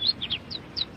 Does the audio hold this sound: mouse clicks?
no